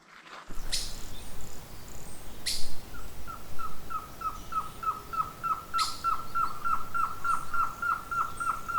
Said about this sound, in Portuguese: Eu vou aproveitar e coletar o som da floresta aqui. Tem um monte de pássaro aqui em volta.